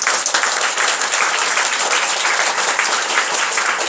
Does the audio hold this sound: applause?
yes